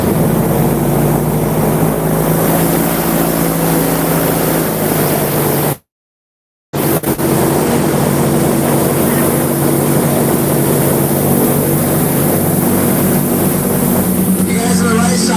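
An airboat motor roars loudly and steadily while the boat runs along an Everglades trail, with a short break partway through before the engine noise resumes at full strength.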